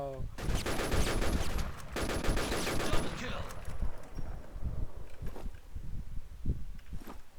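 Rapid gunfire bursts crackle in a shooting video game, dense and continuous at first, then thinning to scattered shots and footsteps-like thuds while a player speaks excitedly over it.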